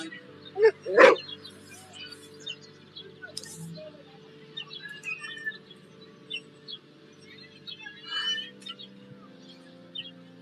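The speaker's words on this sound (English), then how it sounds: "Look at the cute dog." A dog barks in a short played-back video, with one sharp bark early on followed by quieter yips and small chirping sounds over a faint, hushed background.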